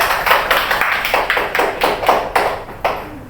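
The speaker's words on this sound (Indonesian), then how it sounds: "Boleh tepuk tangannya." A classroom of students clapping after a group presentation, loose and somewhat uneven claps in a rhythmic pattern that gradually thins out toward the end.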